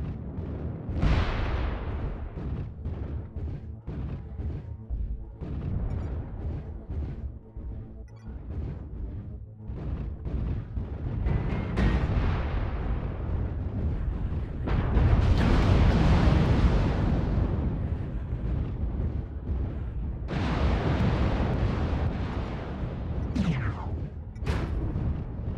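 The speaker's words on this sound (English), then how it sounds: "Incoming missile." Repeated booming missile explosions in MechWarrior Online, set in a frozen city map, heavy impacts arriving in irregular bursts with sharp cracking onsets and rumbling decays, layered over a continuous low mechanical roar.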